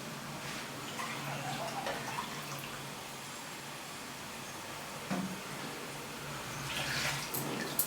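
Water poured into a pan while cooking a paneer curry; a low, steady splashing and running stream continues throughout, with a few louder clatters near the end, moderately quiet.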